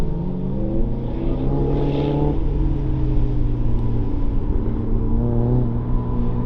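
Toyota AE86 cars on a drift track day, their engines droning loudly and steadily with rising revs as they chase one another, one holding a sustained high note close by.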